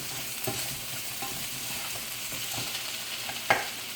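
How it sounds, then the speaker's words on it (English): Bitter melon stir-fried in a hot pan as a spicy Chinese-style dish, with steady close sizzling and a few soft scrapes and clacks of stirring throughout. "Stir fry a bit."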